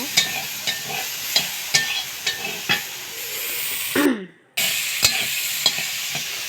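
Dried-pea ghugni frying in a wok on a home stove, with a steady sizzle broken by repeated scraping stirs of a spatula and a brief gap of near silence.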